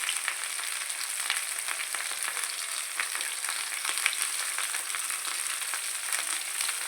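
Turmeric and salt sizzle in hot oil for a rui fish curry, a bright, steady crackling fry with dense popping spatters, close and uninterrupted by voices.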